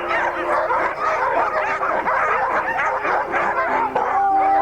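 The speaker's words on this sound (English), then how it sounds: "The excitement of the dogs is tremendous as they prepare to run. They bark incessantly and lunge forward against their traces." Sled dogs being harnessed for a run bark, yip and whine excitedly in a dense, continuous chorus, many close voices overlapping with no pause throughout.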